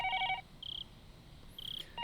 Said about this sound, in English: Right then, the phone rang.